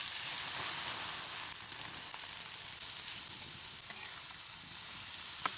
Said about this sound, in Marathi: आता हे किसलेलं गाजर टाकूया